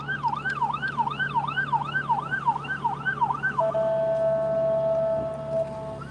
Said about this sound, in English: That's more like an ambulance.